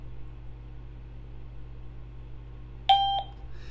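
A single short electronic beep sounds once from an ERA-DCKIT doorbell kit during programming, after a stretch of low steady hum.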